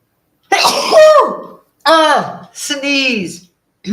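A single person sneezes up close in a quiet room during a painting session, followed by brief spoken words.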